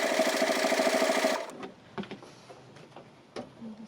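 A sewing machine stitches the seams of a tote bag in a quick, rhythmic run of motor hum and needle clatter that stops after about a second and a half, followed by a few faint clicks and handling sounds.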